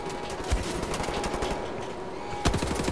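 Assault rifle fire in the video game Wolfenstein crackles in dense rapid bursts, loud and close, with a couple of heavier punchy shots standing out.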